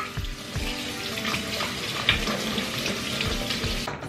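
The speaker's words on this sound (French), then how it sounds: "Les salsifis, on les rince bien." Steady running tap water splashing into a sink, with soft clatters of jarred salsify being rinsed close by.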